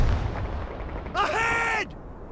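Battlefield gunfire in the video game Call to Arms, a short burst of shots following a loud commanding voice, with crackling noise and a brief blast.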